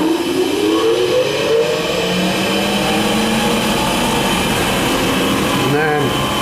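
Oneida Dust Gorilla Pro 5 HP dust collector in a woodworking shop spinning up to a loud, steady jet-like roar with a whining tone that rises as it speeds up.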